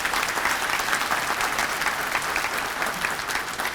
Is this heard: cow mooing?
no